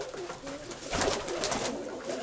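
A pigeon coos in a short, soft burst at close range, with faint background noise around it.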